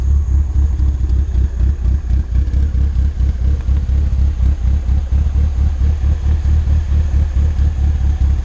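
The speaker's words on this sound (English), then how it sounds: "Let me take it to the back first so you can hear the exhaust." A tuned 2.3L car engine on E85 with a tubular exhaust manifold idles with a loud, choppy exhaust lope, its low rumble pulsing in an uneven rhythm close by.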